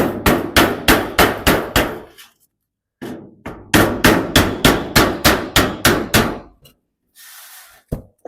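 A hammer strikes a block of wood held against a dent in two rapid bursts of about eight or nine sharp, evenly spaced blows, loud and close, separated by a short pause.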